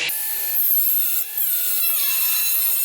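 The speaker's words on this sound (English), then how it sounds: "it's gonna have to start with a little bit of angle grinding" An angle grinder cuts steadily into a Nissan Pathfinder's bumper, producing a loud, continuous abrasive whine with a brief dip in the middle, heard up close with no talking.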